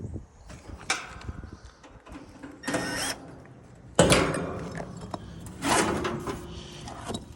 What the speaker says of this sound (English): Okay, contactors pulled in.